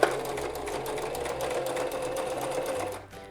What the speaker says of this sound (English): it's a really good thing to have the needle go backwards and forward a couple times just to kind of secure the stitching